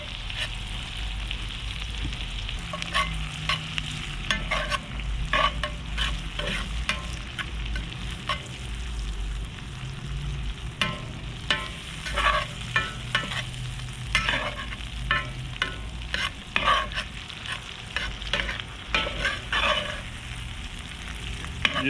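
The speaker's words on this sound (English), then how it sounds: "Just keep them moving around till you get them tomatoes to start to sweat down." Tomatoes sizzle steadily in a hot frying pan with garlic and onion, stirred throughout with repeated scraping and clacking of the utensil against the pan, close and continuous with no talking.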